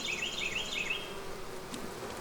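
Honeybees hum steadily around an open, full hive box, a continuous close buzz with a higher whine rising and falling near the start.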